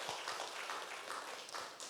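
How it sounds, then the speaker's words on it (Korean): A church congregation claps steadily to encourage one of its members, a short dense patter of applause in a reverberant room. "우리 박수로 힘내라."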